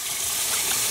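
Rinse water poured over kettle-dyed purple yarn gives a loud, continuous close splashing rush with no pauses.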